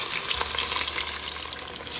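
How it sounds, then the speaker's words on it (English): Bay leaf, fennel seed, cumin seed and onion slices frying in hot oil for a one-pot vegetable pulao, giving a steady, close, continuous sizzle with faint stirring and no talk. "When the oil is hot, 2 pieces of bay leaf, half teaspoon of fennel seed, half teaspoon of cumin seed, 150 grams of onion slice,"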